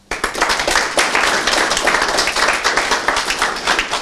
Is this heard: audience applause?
yes